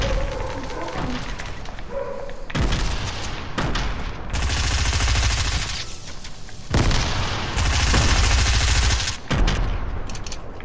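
Gunfire in the video game Fortnite, with loud rapid bursts and booming volleys in several long stretches, while players talk between and over the shots.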